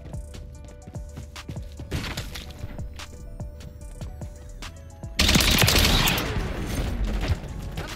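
Video game gunfire from Call of Duty, crossed with Gundam: scattered shots and impacts early on, then a dense, loud burst of continuous firing and crashing from about five seconds on, with no voices.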